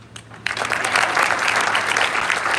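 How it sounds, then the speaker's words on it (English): After a short quiet start, audience applause breaks out at a Boulder City State of the City address, building quickly and holding as steady, full clapping throughout. "this is where you clap"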